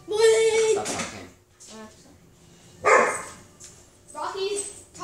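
A dog barks and yips in a few sharp bursts close by, mixed with people talking over a video game.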